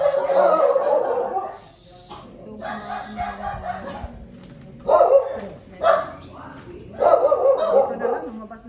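A dog barks in short, loud bursts close by, several times in a row, while people talk nearby and a rooster can be heard faintly.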